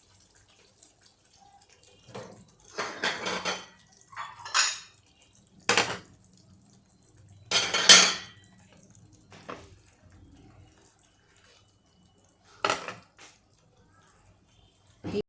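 A capsicum, onion and paneer curry is scraped and spooned from a pan into a serving dish, giving intermittent metallic clinks and scraping bursts with quiet pauses between them.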